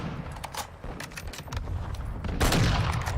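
Rapid bursts of gunfire from Call of Duty Modern Warfare 2 multiplayer, sharp repeated shots crackling over a steady rumble of battle, growing denser and louder toward the end.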